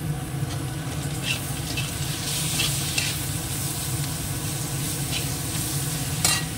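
Tomatoes and spices such as coriander, cumin and chilli powder sizzle steadily in a pan, with a constant frying hiss and occasional stirring clicks, close and moderately loud.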